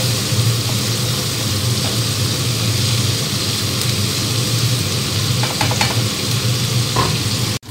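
Sliced onions frying in a pan with a little salt until crisp for mutton biryani, a loud, steady sizzle with a low hum underneath and a few light scrapes, running alone to the end.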